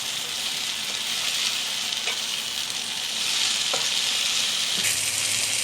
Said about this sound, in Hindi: अभी इसको भूनेंगे